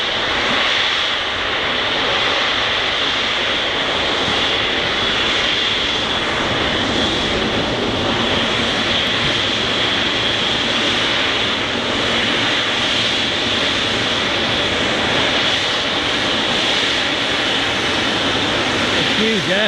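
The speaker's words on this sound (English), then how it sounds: "A huge aircraft." Large airliner jet engines roar steadily at Manchester Airport, a loud, sustained broadband rumble and whine as a big aircraft passes, with people talking beneath it.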